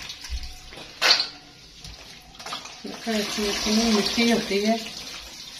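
Tap water runs and splashes steadily as mustard greens and spinach are washed, the flow growing fuller toward the end while someone talks over it.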